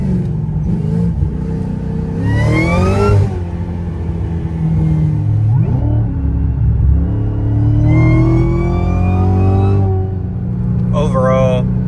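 A supercharged Cadillac CTS-V with a Kong X-Port and long-tube headers revs hard twice, its rising supercharger whine climbing over a deep exhaust rumble, with people talking in the cabin throughout.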